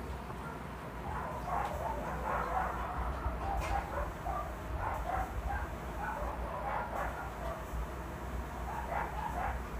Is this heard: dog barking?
yes